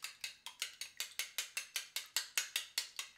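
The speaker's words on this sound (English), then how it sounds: "Now, beat your eggs. Probably should use a fork." A fork beating eggs for scrambled eggs, a steady run of about fourteen quick, evenly spaced clicking strokes against a bowl, close and clear with no talking.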